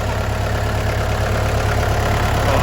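A 2009 Kubota L4508 tractor engine in good running order idles close by: a loud, steady, low diesel rumble with an even mechanical knock throughout and no voices.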